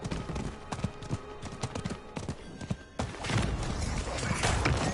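Horse hooves gallop across the ground in Diablo IV, a rapid run of clip-clop beats that grows denser and louder midway, with a brief whinny and game sounds mixed in.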